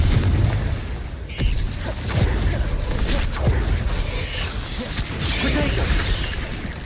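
A Confringo spell blast goes off in a Harry Potter video game, a loud booming explosion over continuous game noise with a sharp burst partway through, while a person talks over it.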